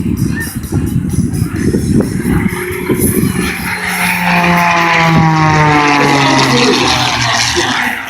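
An MXS high-performance aerobatic airplane rolls to a vertical down line at an airshow, its propeller engine roaring loudly with rising and falling pitch sweeps as it maneuvers, with faint announcer talk underneath.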